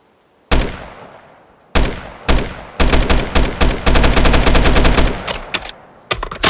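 A .308 rifle with a 20-round magazine fires in a Minecraft Bedrock mod, loud and close: a few spaced single shots, then a rapid sustained burst of fire, with more shots at the end.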